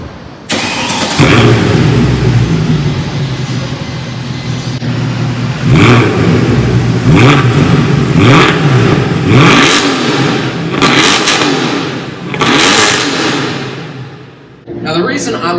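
A Mercedes W204 C63 AMG V8 exhaust revs loudly in repeated sharp throttle blips, dropping back to a deep, rumbling idle between bursts.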